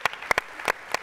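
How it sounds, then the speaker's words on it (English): Scattered, distinct hand claps from a small audience at a university keynote event, a few separate sharp claps spread across a second rather than a full ovation. "I think a round of applause for it"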